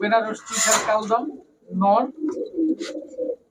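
Giribaj high-flyer pigeons, three pairs kept together, give low throaty coos in short bursts, heard close and partly under someone talking.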